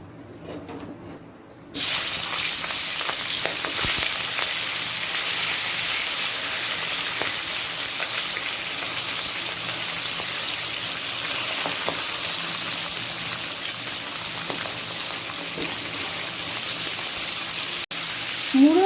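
A fish head frying in hot mustard oil gives a loud, steady crackling sizzle that bursts in suddenly after a quiet start and carries on unbroken, with occasional sharper pops.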